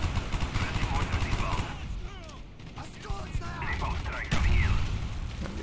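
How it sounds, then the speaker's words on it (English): Mortar and grenade explosions in a video game battle, a dense barrage of booms and gunfire-like bursts running throughout, with a heavy low thump near the end and a voice talking faintly underneath. "Oh my god, there's so much grenade spam. Those are mortars."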